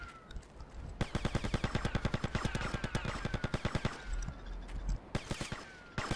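An MP5 submachine gun firing in GTA Vice City, loud rapid automatic bursts of sharp cracking shots in long rhythmic strings, with brief gaps between bursts and a final short volley.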